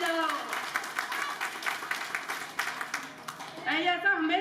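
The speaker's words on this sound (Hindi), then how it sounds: "जोर से ताली बजाओ माता के नाम जोर से ताली बजाओ" Rhythmic group clapping at a Mata Ki Chowki devotional gathering in Vadodara, steady sharp claps in a regular beat, joined by voices singing or calling out near the end.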